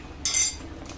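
A metal ladle clinks sharply against a pot while sugar is stirred into potato rice payesh. One bright, close ring is followed by a fainter second tap, over quiet background.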